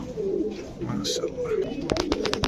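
A pair of red Lotan pigeons coo close by in low, throaty rolling calls, with a voice speaking nearby and a few sharp knocks near the end.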